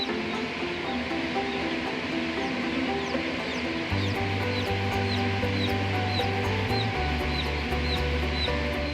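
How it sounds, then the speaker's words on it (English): Newly hatching chicks peep steadily in a Bell & Evans commercial hatchery, with many high chirps scattered across a constant loud mechanical hum of ventilation and machinery. "Watch as the chicks hatch."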